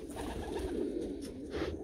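Meuleman racing pigeons, tiger grizzles and carnos, coo softly inside a loft, with low rolling murmurs repeating in a quiet, close, continuous drone.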